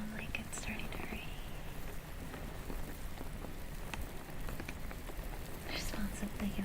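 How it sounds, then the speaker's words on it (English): Soft rain patters steadily on a surface in a cozy room setting, a constant fine hiss with scattered drops, while faint whispering drifts in and out. "does sound like it's starting to rain."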